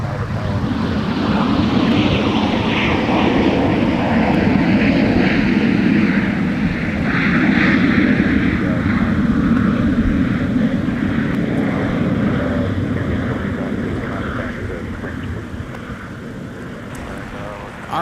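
Airliner taking off from runway 17 at MSP airport during winter holiday operations, a broad steady engine roar with wind noise, loud and sustained before easing slightly toward the end.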